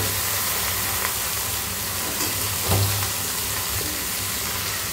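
Pieces of mutton hit a hot pan of melted tomato for a Bengal-style mutton curry, giving off a loud, continuous sizzle and hiss with a few brief crackles and no voices.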